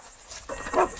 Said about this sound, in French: ça, c'est un chien, il n'y en aura pas deux comme ça.